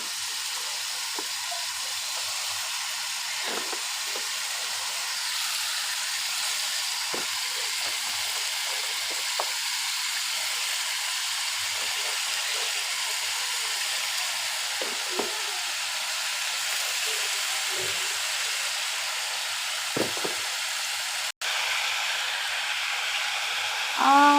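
Diced pumpkin and chopped Malabar spinach fry in a pan with a steady, soft, broadband sizzle, punctuated by faint stirring clicks and one sharp knock near the end.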